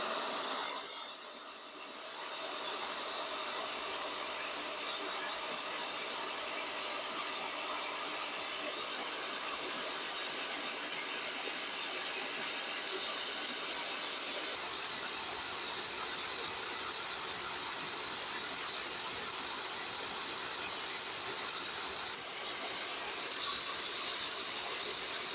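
A Titan 6.3kg SDS drill runs in hammer mode on setting 4, making a steady, harsh, continuous grinding roar that holds for the whole stretch after a brief dip at the start.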